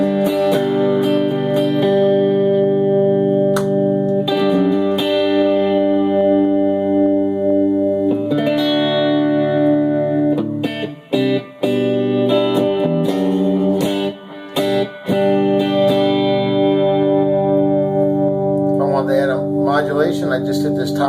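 Electric guitar played through a Blackstar ID Core 10 practice amp with high gain, sustained distorted chords and riffs with chorus and reverb, loud and close, with a few brief pauses and a voice near the end.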